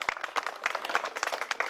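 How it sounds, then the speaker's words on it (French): Strong applause for the president of a journalists' association, many hands clapping in brisk, uneven bursts across a short stretch. "Des applaudissements appuyés pour le président de l'association des journalistes"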